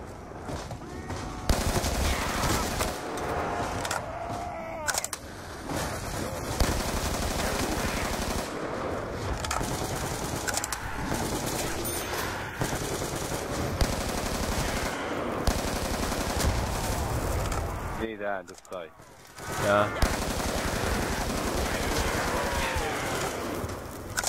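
Dense, continuous machine gun fire in a zombie survival video game set at a bus depot, loud rapid bursts running almost the whole time with brief pauses.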